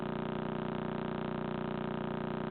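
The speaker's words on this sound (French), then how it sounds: "Ce que vous entendez en ce moment, c'est le son d'un pulsar." A radio recording of the Crab pulsar: a steady, rapid pulsing drone, low and buzzing like a fast mechanical thrum, continuous and unchanging throughout.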